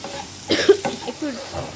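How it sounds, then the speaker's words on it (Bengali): Potatoes frying in a pan, briefly stirred with a few scraping strokes over a soft sizzle, fairly faint and close, with a hoarse voice sound mixed in. "তো আলুটা ভাজা ভাজা হয়ে এসছে"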